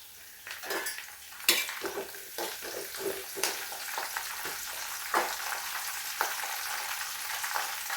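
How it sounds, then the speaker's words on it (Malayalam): Garlic, fenugreek and curry leaves frying in hot oil in a home kitchen, a steady sizzle broken by repeated clinks and scrapes of a spoon against the pan, with no talking. "വെളുത്തുള്ളി ഒന്ന് നല്ലതുപോലെ മൂത്ത് വരട്ടെ. കറിവേപ്പില ഇട്ട് കൊടുക്കുക."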